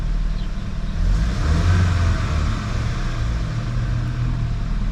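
A tuned 2019 VW Jetta GLI 2.0 turbo with an EQT stage 1 tune revs steadily from close by, its engine note swelling briefly partway through with no talk over it.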